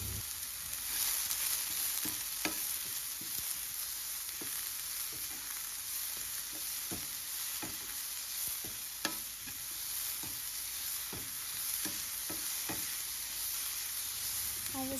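Cutlet ingredients frying in a pan hiss and sizzle steadily and close by, broken by occasional spatula taps and scrapes, with a constant faint high whine in the background.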